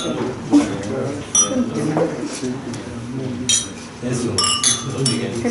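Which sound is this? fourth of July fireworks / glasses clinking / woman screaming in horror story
glasses clinking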